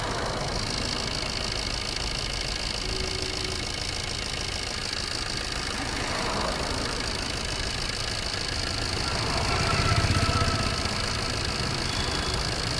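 A Swift Dzire car engine idles with a steady, even rumble and a faint knocking tick, running alone with no talk.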